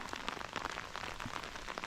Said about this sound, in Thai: ฝนตก เริ่มมาแรงแล้ว